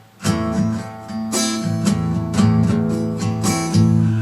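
Acoustic guitar strummed in a steady rhythmic pattern, bright chord strokes repeating with accented downstrokes, close and clear with no voices.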